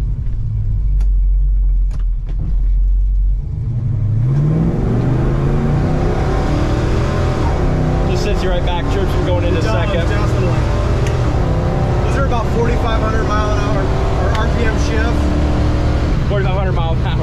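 A 1967 Chevelle SS engine revs up and pulls through several gear changes, rising in pitch and dropping after each shift, loud and close.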